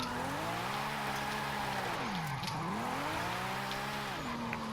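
Car drifting in Forza Horizon 5 using e-brake, downshift and full throttle: an engine revs up and down while tires squeal continuously, loud and close throughout, with no talking.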